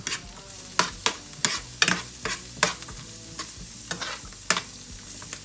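Vegetables sizzling in a pan over fairly high heat as a utensil stirs them, with a series of sharp scraping and clacking strokes at an irregular rhythm over a constant frying hiss.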